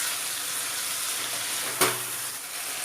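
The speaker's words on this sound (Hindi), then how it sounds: "और इसे हम अभी मिक्स कर लेंगे" Chicken with black pepper and salt being mixed in a hot pan for a hotel-style chilli pepper fry, a steady close sizzle with one sharp utensil clink partway through.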